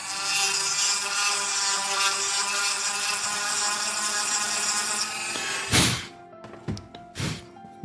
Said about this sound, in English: So that's the exact same method I've been doing with the Dremel here.